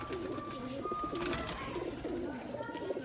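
Highflyer breeder pigeons, several breeds kept together for sale in Faisalabad, cooing in repeated soft rolling calls over a steady background hum, with faint chirps mixed in.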